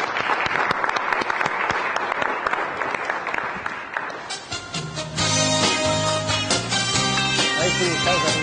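An audience at an afternoon stage show applauds a national act, with dense, steady clapping that carries on as loud music with a strong beat comes in partway through.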